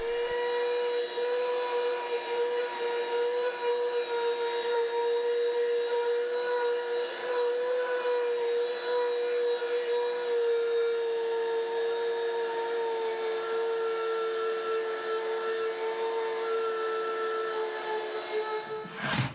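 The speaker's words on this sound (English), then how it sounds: "now we'll just do some finish sanding" A power sander does finish sanding on wooden pantry door parts, a loud, steady whining drone that runs without a break for about nineteen seconds and cuts off at the end, with no talking.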